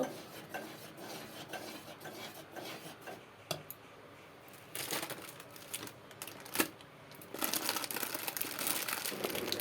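Mango pulp mixed with dry chilli powder, fenugreek and black cumin being stirred in a bowl, giving soft irregular scrapes, clicks and crinkly rustling that grow denser toward the end.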